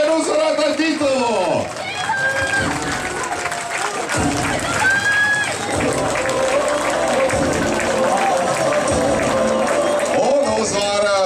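Stadium spectators applauding and cheering during the final stretch of a men's 3000 m race at an athletics meet in Riga, sustained loud crowd noise under an excited announcer speaking Latvian.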